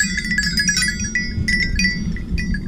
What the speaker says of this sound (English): These are old copper bells.